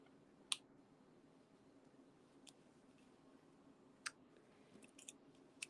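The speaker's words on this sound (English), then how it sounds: "I cut the wings in vellum" Scissors cut wing shapes from vellum in a few sharp, isolated snips spaced several seconds apart, close and fairly quiet over faint room hiss.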